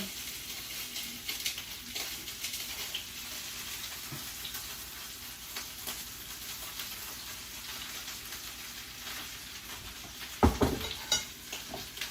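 Meatballs fry in olive oil in a pan with a steady, close sizzle and hiss that runs throughout, broken near the end by a brief clatter of a utensil against the pan.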